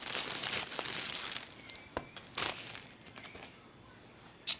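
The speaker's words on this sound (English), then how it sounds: "Sorry for the crinkling." Wrapping inside a swap basket crinkles close by in irregular bursts of papery rustling, loud at first and then sparser, ending in one sharp crackle.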